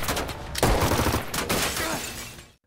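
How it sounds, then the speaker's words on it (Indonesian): Heavy gunfire in a film shootout between bank robbers and police, loud and dense with overlapping shots and sharp bursts that fill the clip before cutting off abruptly at the end. "Melihat Hyde dan polisi terus baku tembak"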